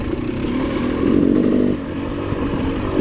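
A KTM 300 dirt bike engine during a hare scramble on a rocky, rooty trail, running loud and close with a steady rasping drone that swells briefly before settling back.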